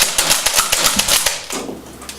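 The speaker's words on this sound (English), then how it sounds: "And for those of you who haven't seen it yet, it has slam fire." A Nerf Strongarm foam dart blaster slam firing, a rapid rattling run of sharp plastic clacks and snaps close up, easing into a softer mechanical rustle at the end.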